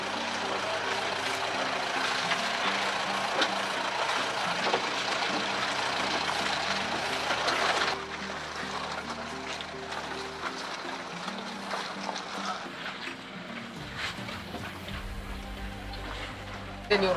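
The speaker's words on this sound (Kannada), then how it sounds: "ಇನ್ನು ವಾಪಸ್ ಕ್ಯಾತನಮಕ್ಕಿ ಹೋಟೆಲ್ ಕಡೆಗೆ ಜೀಪ್ ಅಲ್ಲಿ ಹೋಗುವ." A jeep driving on a hill road near Kyatanamakki Hills in Chikmagalur, a low steady engine drone with rattling and road rumble that shifts in pitch as it climbs, with faint talk in the background.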